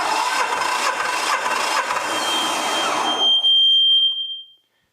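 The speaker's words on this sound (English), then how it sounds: "it should be about 1, 2, 3, 4, 5 cranks of the engine" A Hatz diesel engine is hand-cranked over in rhythmic turning strokes for about three seconds without firing. The turning stops and a thin whine trails off into silence.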